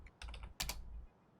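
Quick bursts of keystrokes on a computer keyboard, two short clusters of clicks close to the mic over a low hum, with no talking.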